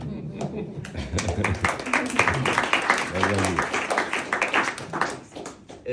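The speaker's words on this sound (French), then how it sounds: "mesdames et messieurs, on peut applaudir" Audience applause at a literary prize event, many hands clapping in a steady fairly loud patter for several seconds, with a voice speaking over the clapping.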